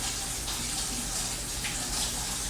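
Kitchen tap water running steadily and loudly while a pizza cutter is washed under it, close and continuous with light splashing.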